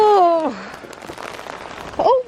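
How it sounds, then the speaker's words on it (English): Hail starts to fall outside a narrowboat moored by a canal towpath, a dense crackling patter on the roof and surfaces that runs steadily through the clip, with a voice exclaiming at the start and end. "It's starting to hail and I've left the window open."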